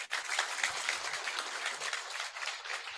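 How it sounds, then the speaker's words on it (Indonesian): Audience applause at a campaign gathering in Papua, a steady spatter of clapping from a modest crowd lasting a few seconds. "Tepuk tangan dong"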